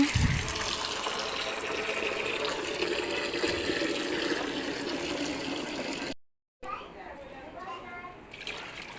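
Water poured steadily while bathing a small household shrine altar, a continuous splashing flow that stops abruptly, then a voice speaking.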